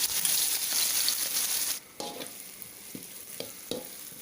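Pounded chili and garlic hit a hot wok for squid stir-fry with basil, giving a loud, dense sizzle that suddenly drops away, followed by a few sharp spatula scrapes and knocks against the wok.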